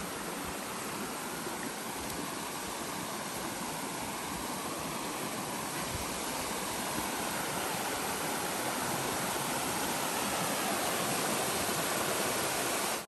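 Rushing river beside a rugged hiking trail in the Pinhoti Trail area, a steady broad roar of moving water filling the scene, constant and fairly loud with no voices.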